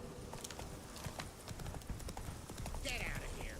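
Horse hooves clip-clop steadily in The Witcher 3, a close, rhythmic trot on ground with a faint whinny and a voice speaking over it.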